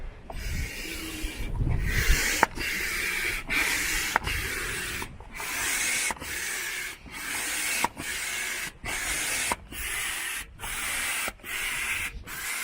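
An electric pump inflates an air mattress inside a minivan being converted into a camper van, giving a steady rushing hiss broken by short regular pauses, close to the microphone and with no talking.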